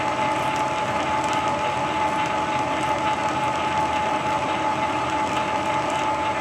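A lathe cuts a fine thread on a lead screw, producing a steady, loud mechanical whir with a constant tonal hum and gear-like rattling, continuous and unbroken, with no talking.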